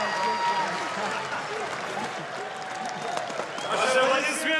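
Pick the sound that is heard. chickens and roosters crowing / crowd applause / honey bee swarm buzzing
crowd applause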